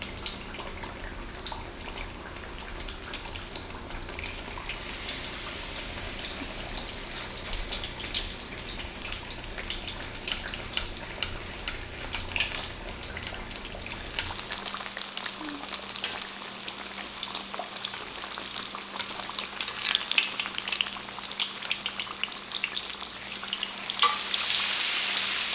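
Beef croquettes and assorted tempura frying in hot oil, a steady close crackling sizzle that runs throughout and grows brighter and busier toward the end.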